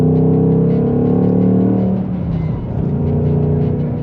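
A modified Ford Mustang Mach 1 5.0L V8 with manual gearbox rumbles and revs with a throaty, low burble, rising then easing off, close and loud with no talking.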